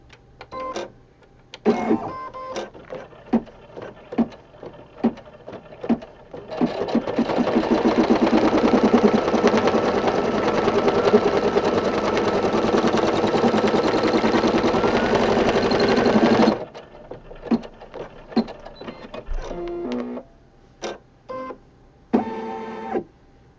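An embroidery machine runs a placement stitch, a dense, fast, even mechanical chatter lasting about ten seconds in the middle, with scattered clicks and handling knocks of hoop and fabric before and after.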